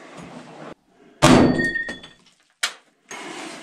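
An Ontario SP-53 bolo knife of 5160 carbon steel breaks apart in a destruction test against a Steyr AUG rifle: a loud, sharp crack with a short metallic ring, then quieter clatter and a brief knock between rustling noises.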